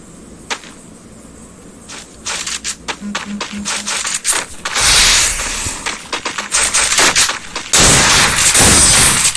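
Rapid gunshots from a shooter video game crack out in short bursts and sustained volleys, loud and close, with brief pauses and clicking between strings of fire.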